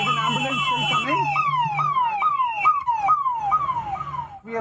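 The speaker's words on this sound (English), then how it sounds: "So there's an ambulance still coming." Ambulance siren on the street near a crash scene, a loud repeating wail that sweeps and drops in a steady rhythm, close by, with traffic rumbling underneath.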